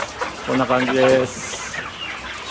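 Eleven-week-old chicks at a small poultry farm give a short burst of clucking and chirping calls at moderate volume, with a person speaking briefly alongside.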